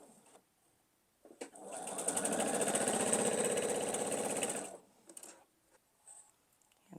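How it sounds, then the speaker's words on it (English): A sewing machine runs in one steady, buzzing stretch of about three seconds while quilt diamond pieces are sewn together, close and even, with a few light handling clicks before and after. "I'm going to continue the process of sewing these diamonds together."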